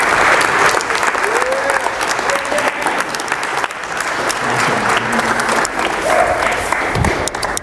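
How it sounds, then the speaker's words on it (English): An audience breaks into sustained applause for a manager at a talk, dense clapping filling the room steadily for several seconds. "big round of applause for Dan, the manager."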